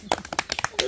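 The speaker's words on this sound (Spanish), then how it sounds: "Mucha aplauso." Quick, irregular hand claps from a few people, sharp bright slaps in a short burst, close by and mixed with voices during a live stream.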